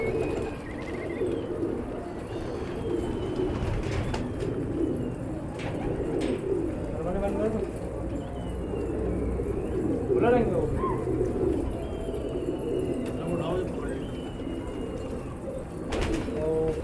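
Lalband pigeons coo repeatedly in a crowded loft, with soft throaty calls and wing flutters layered over a steady ambient hum, while people talk nearby.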